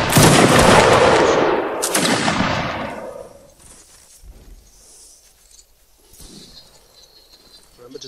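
Line infantry in Mount and Blade fire a musket volley: two loud, crackling bursts in quick succession that roll away into a fading echo, followed by faint distant shots and ambient noise.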